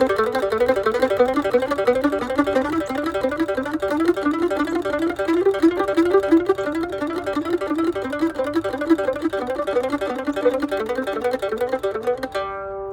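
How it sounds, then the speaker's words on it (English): Rapid, evenly picked mandolin notes climb through repeating scale patterns at a fast, steady tempo, played solo and close, ending on a held note. "this very advanced speed training exercise is one I showed to Wyatt, one I use myself, sounds like this."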